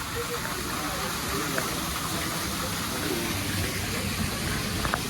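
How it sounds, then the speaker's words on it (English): Water from a waterfall inside an enclosed, cave-like space at a theme park gushes in a steady, loud roar that fills the whole clip, with faint crowd sounds mixed in. "There's the waterfall."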